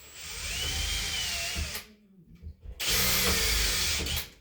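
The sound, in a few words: power drill drilling small pilot hole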